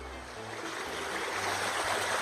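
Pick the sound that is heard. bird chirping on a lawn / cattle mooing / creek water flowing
creek water flowing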